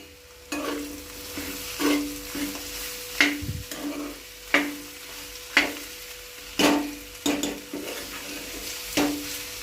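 Spoon stirring a homemade cauliflower and pea curry in a pan, a steady low sizzle broken by repeated scraping strokes at an uneven rhythm, close and moderately loud with no talking.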